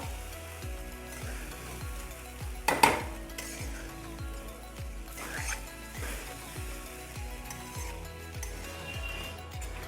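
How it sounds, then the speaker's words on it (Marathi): A utensil scrapes a flat griddle of rice pulao in a steady repeating rhythm, about once every half second, with a faint sizzle underneath and one sharper clank. "तांदूळ टाकल्यानंतर चांगलं मिक्स करायचं"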